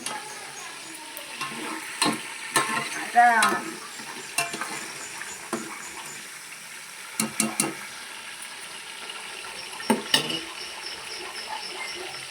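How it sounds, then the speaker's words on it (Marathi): Oil crackling in a pan on a wood-fired clay stove in a Konkan home while taro leaf curry cooks: scattered sharp pops and clinks over a faint steady sizzle, with a few louder spits close by. "ते तेल तडतडलंय"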